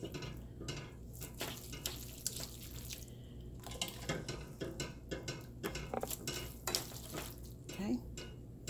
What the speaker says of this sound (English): I'm scooping the linguine out of the pot and putting it into the scampi pot.